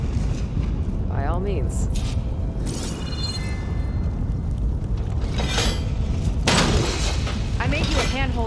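A ballista shot smashes through a bridge in the video game Horizon Forbidden West, a loud rumbling crash with cracking debris that carries on under a short spoken line and other game sounds.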